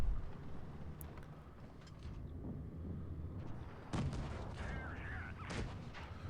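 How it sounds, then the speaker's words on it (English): A heavy tank gun booms in the World of Tanks Blitz game, one muffled blast near four seconds over a low rumbling engine and battlefield drone, fairly quiet overall. "Big shot there from the KV-1."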